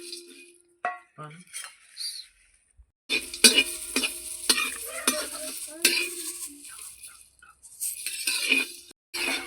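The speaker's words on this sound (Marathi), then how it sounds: "हे सर्व मसाले फक्त 2 ते 3 मिनिट आपल्याला भाजून घ्यायचा, जास्त भाजायचं नाही" Whole spices for a village-style black masala dry-roasting in a pan, stirred with a spoon in bursts of scraping and clinking against the metal, separated by short quiet pauses.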